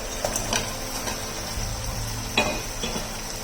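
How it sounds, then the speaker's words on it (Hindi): Masala frying in oil in a pan with fish fry for a Pakistani recipe, a soft steady sizzle with a few spoon stirs and scrapes against the pan, no voices. "मसाले को भूनते हुए तकरीबन 10 से 12 मिनट हो गए हैं।"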